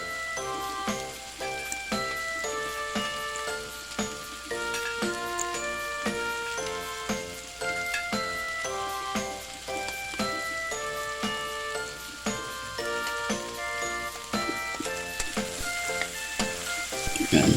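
Minced garlic frying in hot oil in a pan for chicken adobo gives a steady, close sizzle that runs the whole way through beneath continuous tonal background music.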